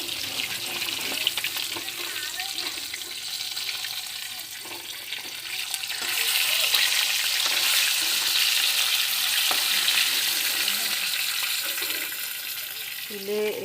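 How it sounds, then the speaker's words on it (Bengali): Fish frying in hot oil in a wok, a dense steady sizzle and crackle that runs throughout and swells louder partway through, with faint kitchen clatter and no talking. "এই যে আমার মাছগুলি ভাজা হয়ে গেছে"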